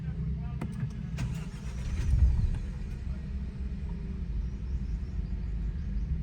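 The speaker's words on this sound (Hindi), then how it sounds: "अब हम करते हैं गाड़ी को स्टार्ट।" An MG HS car engine starting after an overhaul with new camshafts, cranking briefly and then settling into a steady, close idle with a low rumble; a person talks throughout.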